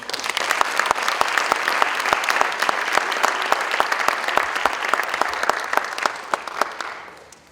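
A crowd applauds a Hall of Fame inductee at a school district sports induction ceremony, steady loud clapping with sharp individual claps standing out, carrying on for several seconds before tapering off.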